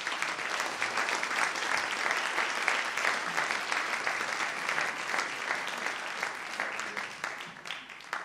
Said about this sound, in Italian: Lo vogliamo qui sul palco con un bel applauso!